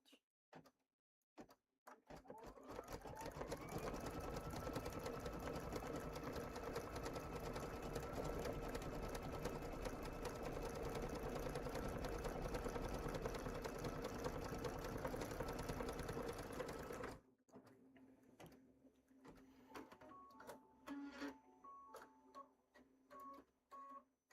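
Embroidery machine stitching a blanket stitch on a pillow wrap, starting up and running as a steady loud mechanical whir for about fifteen seconds, then stopping, followed by faint beeps and small clicks.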